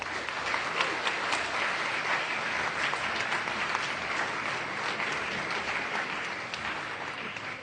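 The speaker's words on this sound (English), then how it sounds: "Can we get a round of applause, please, for all the candidates?" Sustained audience applause at a student election results night, a steady dense roar of many hands clapping for the candidates, loud and continuous without letting up.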